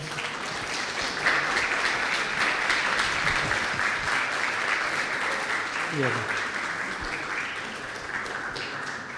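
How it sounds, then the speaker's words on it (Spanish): Audience applause after a conference talk, a dense, even wash of many hands clapping that carries on for several seconds at moderate distance with faint voices underneath. "Y este es el momento donde te aplauden."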